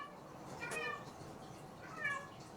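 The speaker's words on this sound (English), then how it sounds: "My cat is meowing." A house cat meows twice indoors, each a short rising-falling cry about a second apart, fairly clear against quiet room tone.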